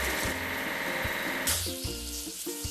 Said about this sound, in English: Now let's wash off the rest of the foam.